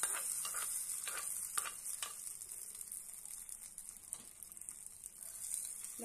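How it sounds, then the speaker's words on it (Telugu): Hot tempering poured over chutney in a Telugu kitchen, a bright hissing sizzle with crackling pops that settles into a steady fizz, close and alone. "ఇలాగా పచ్చడి పెట్టుకొని ఇందులో పోపు వేసుకోండి"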